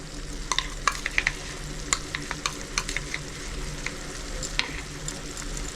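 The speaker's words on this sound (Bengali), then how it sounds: "কাজু বাটা, দিয়ে ভালো করে মিক্স করে নিচ্ছি।" Cashew paste being stirred into a spiced masala in a pan while cooking chicken roast, with irregular close scraping and tapping strokes of the spoon over a soft, steady sizzle.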